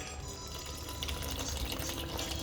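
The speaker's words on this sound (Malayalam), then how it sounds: "ഇതിലേക്ക് വെള്ളം ഒഴിക്കുക" Water pours steadily into salted flour in a soft, continuous trickle, close by, with no talking.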